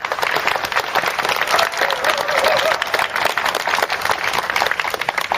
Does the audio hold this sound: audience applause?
yes